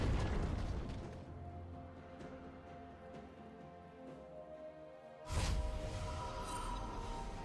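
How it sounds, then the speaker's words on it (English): A turret being destroyed in League of Legends, with a sudden loud crash and blast over the steady game soundscape, after a drawn-out rumble. "Red team's turret has been destroyed."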